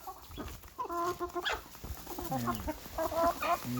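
A chicken clucks repeatedly up close, a run of short throaty calls and a few higher squawks, over light outdoor background noise.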